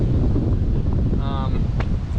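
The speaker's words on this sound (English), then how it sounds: "We're in the open field now, and it's crazy windy." Strong wind buffets the microphone in a constant, heavy roar throughout in an open field, with faint background sounds barely poking through.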